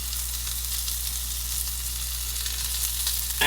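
Steak sizzling and frying in a hot pan with garlic, cooked for a steak-and-eggs breakfast: a steady, close, continuous sizzle with a slight rise in intensity at the end, no voices.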